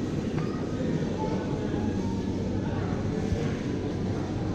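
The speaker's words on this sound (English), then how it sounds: "This one is bullet train." Steady low rumble of a Japanese bullet train at a Tokyo station, a continuous broadband roar with no clear breaks.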